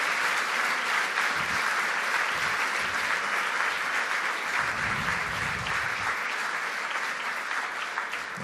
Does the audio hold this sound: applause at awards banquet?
yes